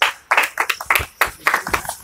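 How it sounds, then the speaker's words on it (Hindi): Scattered clapping for high-scoring students at an exam result announcement, several hands patting out uneven bursts of claps close by, thin and sparse rather than full applause. "तालियां बजाइए थोड़ा सा"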